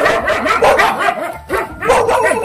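Several dogs bark repeatedly in quick, overlapping bursts with some higher yips, loud and nearby, with a brief pause midway.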